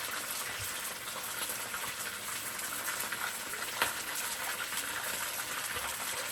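Chicken pieces for karahi crackle and hiss steadily in hot oil, a dense continuous sizzle with a few brief pops and stirring knocks, close and even throughout.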